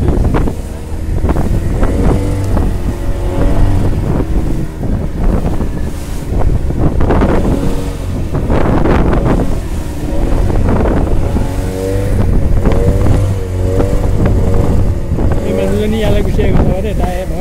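A boat crosses the sea at high tide on the return from Bongoyo island, with waves and wind. Heavy wind buffeting on the microphone blends with a continuous engine drone and sloshing water throughout.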